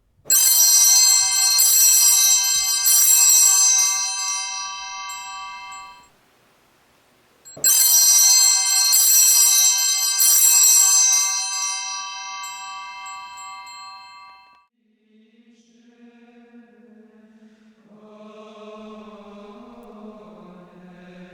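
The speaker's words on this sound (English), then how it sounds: "The bells are rung 3 times at each elevation." Altar bells at the elevation during Mass, rung in loud bright jangling bursts separated by a short pause, each ringing on and fading, followed by soft tonal organ-like music.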